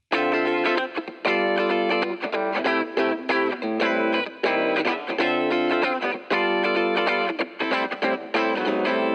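An electric guitar mix plays before EQ and reverb processing, distorted chords strummed in rhythmic bursts with short gaps, loud and dry with no voices.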